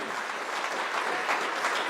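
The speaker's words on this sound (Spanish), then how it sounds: "Den un aplauso al Señor en esta noche." A church congregation claps during an evening sermon, a dense, steady wash of applause filling the room, brief and even in loudness.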